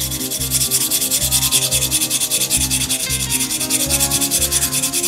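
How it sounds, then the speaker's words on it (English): Sandpaper rubs rhythmically around the rim of a handmade wooden frontier spoon, close and loud, with steady back-and-forth strokes repeating at an even pace and no voices. "So then we're just gonna sand this top piece right here. Sand around the rim as well,"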